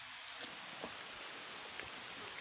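Rain falls outdoors as a faint, steady hiss with scattered soft drop taps on nearby surfaces and no one speaking.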